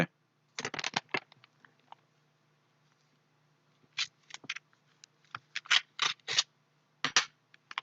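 A bid envelope torn and unfolded at a public tender opening for a Turkish construction contract, with bursts of crisp paper rustling and tearing in clusters, close and alone against a faint low hum.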